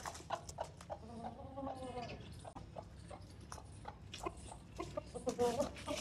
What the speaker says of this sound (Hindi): इस मुर्गे से तो मुझे भी भाई डर लगता है